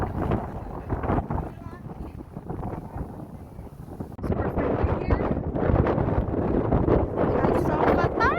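Strong gusting wind on Mt. Malingatong buffets the microphone with roaring low rumble throughout, growing louder halfway, while voices speak faintly beneath it.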